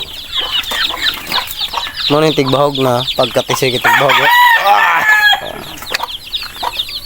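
Derby gamefowl roosters on a farm cluck and crow, with one loud, drawn-out crow in the middle among scattered clucks, close to the microphone, while someone talks.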